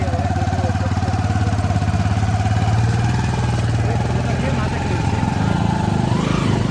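A motorcycle engine drones steadily and loudly at a low throttle while hauling a tractor by a cable attached to the bike, a continuous mid-pitched engine hum with a faint shift near the end.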